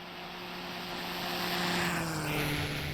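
A Boeing 737 Classic in a flight simulator game passes in flyby view, a steady jet engine drone with a tonal whine that swells slightly louder as it goes by, no voices.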